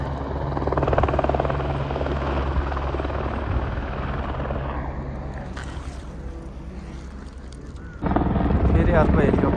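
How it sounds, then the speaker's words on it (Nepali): A second helicopter arriving at a high-altitude landing spot on the Gosaikunda trek in Nepal, its loud rotor roar and engine whine sustained throughout, with a sudden jump in noise near the end. "फेरि अर्को हेलिकप्टर आइसकेको छ। यहाँ हेलिकप्टर चाहिँ नन स्टप आएको है"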